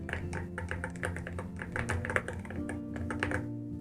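Typing on a keyboard fitted with ACO V3 Creamy Purple Pro switches gives a fast run of close, muted, rounded clacks in an uneven rhythm, over a faint musical background.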